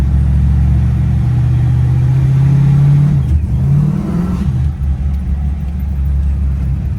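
A 1970 Dodge Challenger R/T with a supercharged aluminum 440 engine idles with a deep, loud rumble up close, then revs briefly and settles back into a steady, throaty idle.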